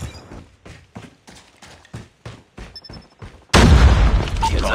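A grenade goes off in a first-person shooter game: a series of footsteps or mechanical clicks gives way to a sudden loud explosion that roars on for over a second.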